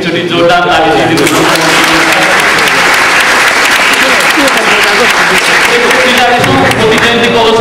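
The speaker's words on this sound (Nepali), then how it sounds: "फेरि एकचोटि जोरदार ताली दिदिनुहोस्" A large audience at a Moti Jayanti ghazal literary programme bursts into loud, sustained applause, the dense clapping filling the whole stretch with a voice briefly rising over it.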